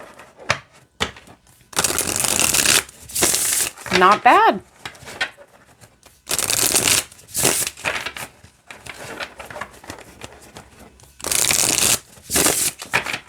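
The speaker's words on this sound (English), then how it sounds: "Let's see how it shuffles." Weiser Tarot cards of flexible cardstock being shuffled in a series of loud, brisk riffling bursts separated by short pauses, with a person speaking briefly between them.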